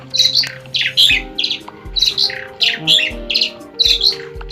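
Repeated harsh bird squawks and chirps in quick bursts from Minecraft gameplay over a low steady hum, close and fairly loud.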